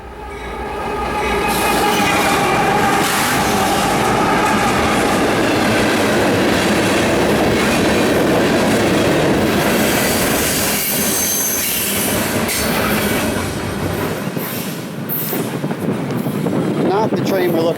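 A CSX freight train rolls past close by near Harpers Ferry, West Virginia, a loud continuous roar of clattering wheels with sharp, shrill wheel squeals that eases slightly toward the end.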